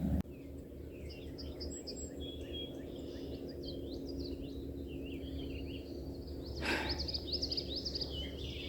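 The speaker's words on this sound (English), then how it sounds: "Listen to the birds." Birds sing at a marsh-edged lake in Canoe Creek State Park, Pennsylvania, faint scattered chirps and trills over a low steady hum, with one brief louder rustle partway through.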